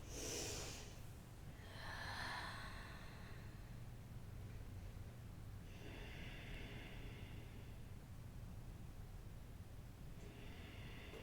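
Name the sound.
Ujjayi breathing during yoga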